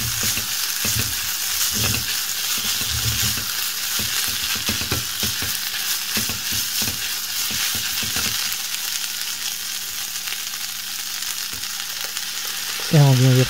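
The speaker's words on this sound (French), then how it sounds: "On mélange." Tomato concentrate mixture stirred in a frying pan, a steady close sizzle with repeated scraping strokes of the utensil through the first half, then continuous frying hiss and a brief sharper burst at the end.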